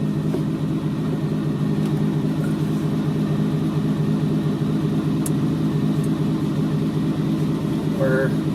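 A 1983 VW Rabbit GTI engine runs at a steady, close, low idle, its even rumble holding throughout with no clear start-up moment.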